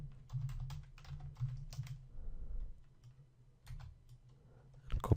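Rapid clicking of a computer keyboard as text is typed, bursts of keystrokes with short pauses between them, close and clear with no talking.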